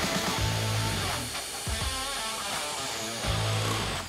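A DeWalt DCD791 cordless drill bores with a 14 mm spade bit, giving a steady motor whine that dips briefly mid-run and then rises again, close and alone.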